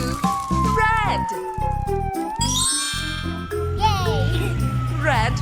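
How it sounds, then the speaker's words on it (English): A cartoon fire truck siren from a children's nursery rhyme wails in long rising and falling sweeps over bouncy music, with sung voices and chiming effects around it. "Red fire truck."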